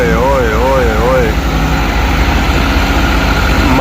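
A tractor engine drones with a steady low rumble close by, while a voice shouts and chants loudly over it in a wavering sing-song.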